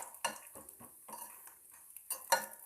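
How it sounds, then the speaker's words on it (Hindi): Almonds lightly frying in hot ghee over low heat, heard as quiet, intermittent stirring scrapes and clatters in a pan with a faint sizzle beneath, no voices. "अब हम डालेंगे इसमें बादाम। बादाम को हमने हल्का ही फ्राई करना है,"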